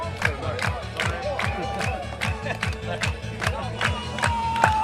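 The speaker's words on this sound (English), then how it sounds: "Crowd's getting into it here as the Cougs get stood up." Crowd at a six-a-side kubb world championship semi-final cheering and chanting in a rhythmic, rowdy rise and fall, with repeated loud shouts and sharp claps over a steady outdoor roar.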